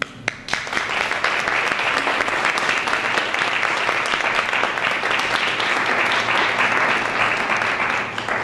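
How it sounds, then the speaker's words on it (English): Steady, dense applause from a large audience at a press conference, sustained at an even level throughout. "So I'd like to ask all of you who have a flower on to rise just for a second so we can applaud you"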